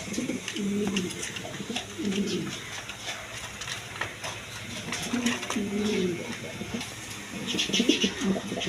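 Pet pigeons, including Kokka and Bashiraj breeds, coo in repeated low, throaty rolls close by, with soft bird chatter and faint background noise between the calls.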